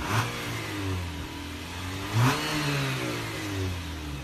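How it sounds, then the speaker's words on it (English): A 2019 Chevrolet Blazer's 2.5-liter four-cylinder engine idles, then revs up briefly twice, the exhaust rising to a throaty burst before settling back to a low rumble. "Exhaust sound. Very underwhelming."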